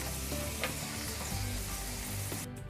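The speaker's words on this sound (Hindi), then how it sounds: "1 मिनट हो चुका है, हमारी मटर भी अच्छे से फ्राई हो चुकी है।" Peas and mixed vegetables fry in hot oil in a pan, a dense continuous sizzle with light stirring noises throughout, no voices.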